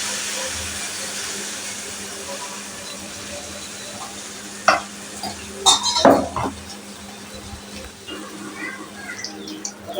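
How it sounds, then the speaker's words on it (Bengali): Poa pitha batter sizzles in a hot frying pan, a soft steady hiss broken by several sharp scrapes and clanks of a utensil against the pan. "এবার বিসমিল্লাহ বলে ব্যাটারটা দিয়ে দিচ্ছি কড়াইতে।"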